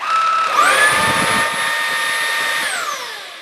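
A Comfyer Petrel cordless stick vacuum at standard speed whirs up and holds a steady, high-pitched motor whine for a few seconds before winding down slightly.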